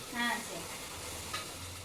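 Food sizzles in a pan with a soft, steady crackle; a brief voice sound rises at the start.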